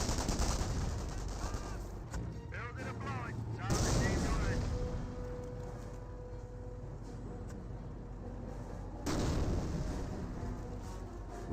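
Grenadier infantry rifle and machine-gun fire aimed at a Hellcat tank destroyer in the Company of Heroes video game, a dense, continuous crackle of shots and blasts with a caster talking over it.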